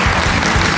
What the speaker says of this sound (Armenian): բարձր ծափարեք